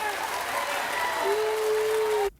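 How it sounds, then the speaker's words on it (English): Audience of women on their feet applauding and cheering, a steady wash of clapping with a sustained voice tone over it, cutting off sharply near the end. "Look at all those women standing up cheering."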